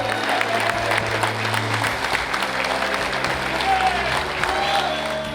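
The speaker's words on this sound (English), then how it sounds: "Let's give a big round of applause for the main guy" A crowd at a New York Mets fantasy baseball camp gives a round of applause for the camp's organizer, a dense burst of clapping that carries on through the whole few seconds with some voices mixed in.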